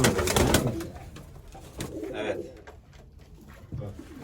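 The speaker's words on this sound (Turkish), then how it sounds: "Bak yabancı olduğu için ürüyor" A stray pigeon coos loudly and close by in repeated soft rolling calls, with a brief voice speaking in between.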